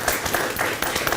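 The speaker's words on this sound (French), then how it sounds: "On applaudit très très fort" Steady clapping from a crowd, dense and continuous for about a second, at a French television celebration honouring a long career.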